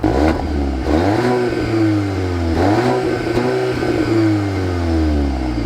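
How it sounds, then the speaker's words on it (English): A VW Golf R Black Edition with a titanium exhaust revs loudly up close, its engine note climbing and falling in two strong blips over a steady throaty idle, with no one talking. "Now this does have a titanium exhaust, and well, let's take a listen."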